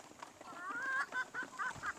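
Large hens and roosters in a breeding pen cluck and murmur in a rapid series of short calls, fairly close, against a light background hiss.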